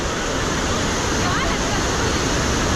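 Steady, dense rush of falling water at Abbey Falls in Coorg, swollen by heavy rain, loud and continuous with no pauses.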